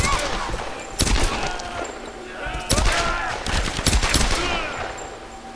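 Gunfire in the 2013 Tomb Raider video game: several sharp, loud shots burst out at irregular intervals over a busy bed of in-game ambience and effects.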